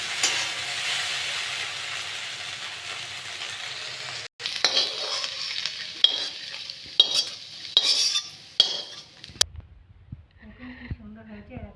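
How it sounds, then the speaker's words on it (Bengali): A spatula scrapes and stirs through sizzling okra in a pan, with a steady frying hiss, then several sharp clanks against the pan before a quieter stretch. "ভাজাটা আমার হয়ে গেছে আমি এবার নাড়িয়ে নেব"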